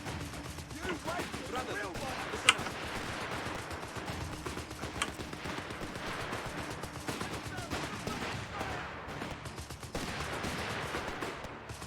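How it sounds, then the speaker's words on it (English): Sustained automatic machine gun fire from a building position in the WWII strategy game Company of Heroes 3, dense rapid bursts layered with other battlefield gunfire and a few sharper shots, continuous and loud throughout. "getting a machine gun set up in the building here"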